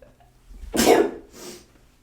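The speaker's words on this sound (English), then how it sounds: "Oh my god, I'm sneezing on my mail." A single sharp sneeze bursts out close and loud while opening mail, followed by a softer breathy exhale.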